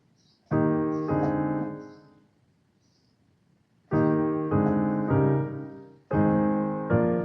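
Piano chords moving to the four chord, struck in a loose rhythm, a cluster of sustained chords, a pause, then more chords returning, clear and fairly close.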